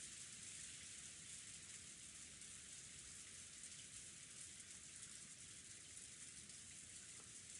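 Rain falling in a visual novel game, a faint, steady hiss of rainfall with no talk, constant and unchanging throughout.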